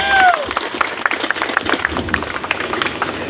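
Applause from the gathered crowd for the Pemuda Pancasila family at the 17th anniversary celebration of Ikatan Keluarga Besar Jampang, a steady patter of many hands clapping with a few louder claps, moderately loud.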